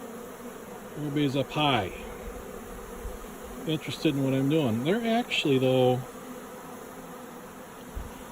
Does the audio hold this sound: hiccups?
no